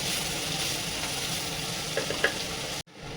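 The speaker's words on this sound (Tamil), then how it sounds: "நல்லா வதக்கி விடணும். ஒரு 2 நிமிஷம் வதங்கணும்." Onions sautéing in a pan for country chicken give a steady, close sizzle with a few small stirring clicks near the end, cut by a brief dropout just before the finish; no one speaks.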